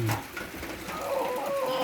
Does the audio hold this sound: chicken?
yes